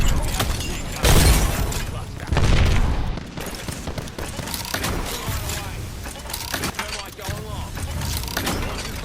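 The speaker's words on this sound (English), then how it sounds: "As long as you're just throwing grenades all in the area and shooting at them too, of course." Grenade explosions and gunfire in Apex Legends as Fuse, with two big booming blasts early on followed by scattered bursts of shots and smaller impacts, while someone talks over the action.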